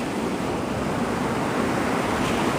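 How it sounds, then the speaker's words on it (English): Ocean waves wash steadily onto a Florida beach near Pensacola, a continuous close roar of surf with some wind noise and no voices. "This is the back part of the beach."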